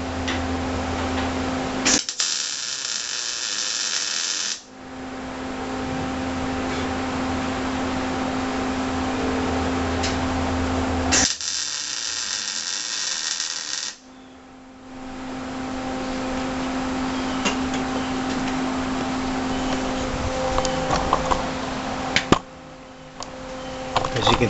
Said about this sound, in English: As you can see, we got three perfect spot welds.